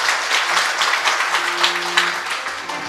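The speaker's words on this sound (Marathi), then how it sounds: "कीर्तनात टाळी वाजलीच पाहिजे" An audience at a kirtan gathering in an ashram claps in a steady rhythmic beat, the claps close and full, with faint sustained tones beneath.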